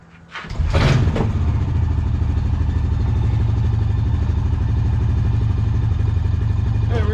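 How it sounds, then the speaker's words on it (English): A four-wheeler ATV engine starts up and settles into a steady, loud, close running drone that holds for several seconds. "I'm going to take a little ride on the four-wheeler now"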